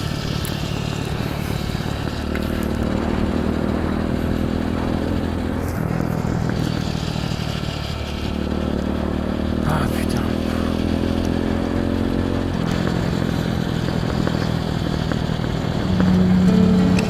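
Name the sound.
Kawasaki KLX 110 motorcycle riding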